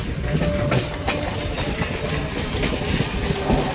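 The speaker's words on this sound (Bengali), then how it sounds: "স্পিড তুলে নিয়েছে আমাদের ট্রেন" A local train on the Panskura–Digha line runs at speed along the rails, its wheels clattering in a steady rumbling rhythm with a continuous loud roar of the carriage, heard close from on board.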